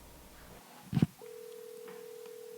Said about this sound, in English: Let's see if we can get Mr. Lowen on the phone.